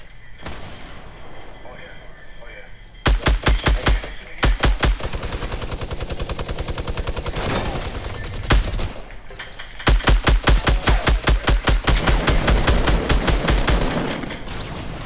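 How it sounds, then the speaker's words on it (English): Rapid bursts of automatic gunfire from a Fortnite match, loud and close, firing in long rattling volleys with short pauses between, while players talk over the shooting. "They shooting again."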